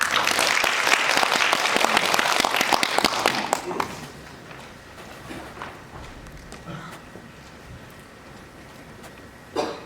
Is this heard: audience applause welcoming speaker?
yes